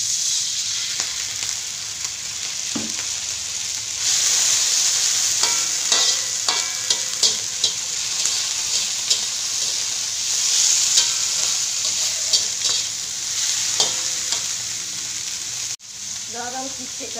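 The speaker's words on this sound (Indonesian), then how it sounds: "Masukkan sayur, kita kacau-kacau" Kailan greens are stir-fried in a pan with a little water and salt, giving a loud, continuous sizzle with repeated scraping and clinking as the vegetables are tossed, briefly dipping near the end.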